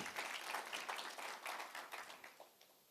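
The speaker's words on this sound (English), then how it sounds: "A round of applause once again," A graduation ceremony audience in Johannesburg claps, a fairly quiet, uneven patter of hands that tapers off into scattered claps.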